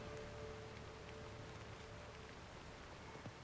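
Rain falling in misty weather outside a house, a faint, even patter and hiss that continues steadily with no talking.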